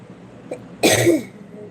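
A single short cough, close and fairly loud, with a quiet room around it.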